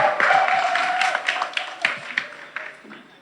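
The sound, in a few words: audience applause for Didier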